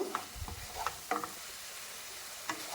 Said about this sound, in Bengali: দিয়ে দিচ্ছি হাফ চা চামচ গরম মশলার গুঁড়ো আমি আবারও একটু ভেজে নেব